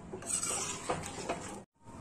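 Meat masala being stirred into a jackfruit and potato curry, with a spoon scraping and clinking against the pot under a low sizzle, close, before a short silence.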